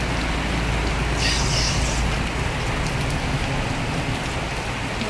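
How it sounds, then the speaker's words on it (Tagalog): Heavy rain falls on an outdoor religious procession, a dense, loud, constant hiss with a faint hum of traffic beneath it and no speech. "Umulan sila."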